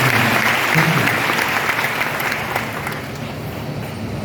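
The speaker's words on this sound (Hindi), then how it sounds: "जोरदार तालियों से" A large audience at a coaching institute orientation in Kota breaks into loud, sustained applause that starts strong and slowly tapers toward the end, with no speech over it.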